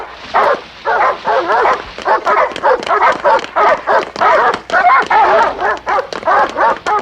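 Several dogs barking and yipping in rapid bursts on a 1975 TV drama episode of The Invisible Man, searching dogs giving steady, excited, fairly close barks with short gaps throughout.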